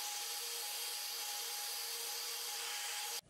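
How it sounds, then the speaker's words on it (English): A heat gun drying paint runs with a steady, faint blowing hum and thin whine, evenly, then cuts off abruptly at the end; no voices. "Now what we're going to do is use our heat gun."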